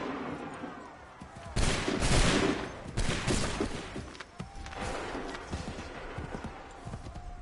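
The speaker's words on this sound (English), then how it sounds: "Open fire." Musket volleys in Assassin's Creed III, with several loud, booming bursts of massed fire near the start and then fainter scattered shots and rumbling battle noise.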